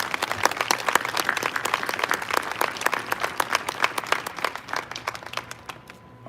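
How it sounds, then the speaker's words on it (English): An audience at a military honors ceremony applauds for a family, a moderate spread of individual claps from a mid-sized crowd that thins and fades out toward the end. "if you would please give a round of applause for the family of Major General William P"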